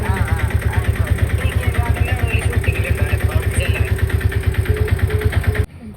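A scooter engine runs steadily at close range with a fast, even pulsing throb, then cuts off near the end; a voice talks over it.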